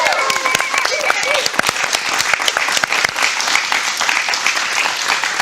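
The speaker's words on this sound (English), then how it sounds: "Can we already get a round of applause for them?" Loud, dense audience applause for the crew at a live stream, with sustained clapping and crowd noise, and voices briefly heard at the start.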